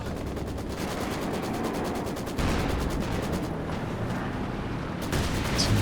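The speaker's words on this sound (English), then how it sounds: "Incendiary artillery coming in." Incendiary artillery fire in the Company of Heroes 2 strategy game, heard as a dense, continuous crackle of rapid bursts and blasts that fills the whole stretch with no talking.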